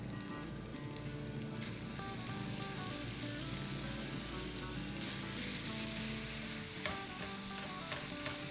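Ground chicken keema cooking in a pan with onions, ginger and garlic, a loud, close, unbroken sizzle that holds steady throughout with a faint clink near the end.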